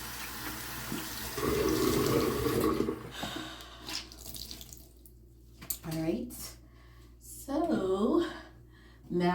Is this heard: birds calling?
no